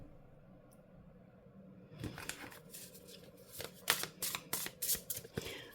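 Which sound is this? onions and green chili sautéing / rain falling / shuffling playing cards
shuffling playing cards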